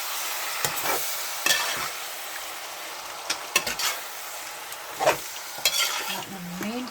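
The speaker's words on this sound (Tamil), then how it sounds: "இப்போ கிண்டி விட்டுக்கலாம்." Squid and brinjal fry in a pan with a steady sizzle while a utensil stirs and scrapes in several sharp, irregular strokes, close and clear with no talking.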